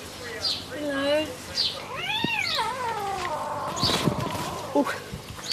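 Several meows from stray cats in a colony with kittens, one kitten suffering from snuffles, rise and fall in close, repeated calls while a person speaks nearby between them.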